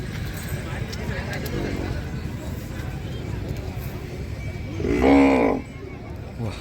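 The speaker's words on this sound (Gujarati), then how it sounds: "સારામાં સારી કાંકરેજ ગાય" A Kankrej cow gives a single deep, drawn-out moo near the end at a Hodka Banni livestock fair, rising above a constant murmur of crowd voices and outdoor bustle.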